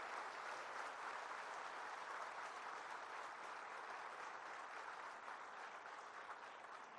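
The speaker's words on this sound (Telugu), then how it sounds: "మీరు పెద్ద ఎత్తున వారిని చప్పట్లతో అభినందించండి" An audience at a government ceremony handing appointment letters to newly recruited engineers breaks into sustained applause, a dense, even wash of clapping that holds steady throughout.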